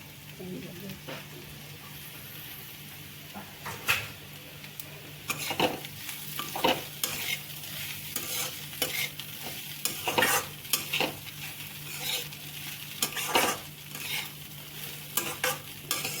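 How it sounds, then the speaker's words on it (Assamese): Soaked poha going into a frying pan with very little oil and being stirred, making a continuous sizzle with frequent scraping and clattering of the spoon against the pan. "এতিয়া মই চিৰাখিনি দি দিম, যি 10 মিনিট মই থৈ দিছিলোঁ।"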